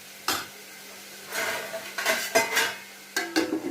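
Onion and ridge gourd pieces are turned in a frying pan, several short scraping and clattering bursts of a spatula against the pan, separated by quiet gaps, over a faint hum.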